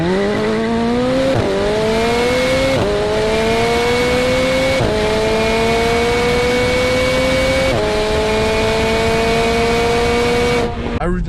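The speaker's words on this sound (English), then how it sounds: "When you put your foot down all the way on the pedal, then you can actually hear a really nice sound from the electric motors" A Tesla Model 3 Dual Motor Long Range under full acceleration gives off a loud, continuous electric-motor whine that climbs steadily in pitch, with a few brief dips, over constant road and wind roar.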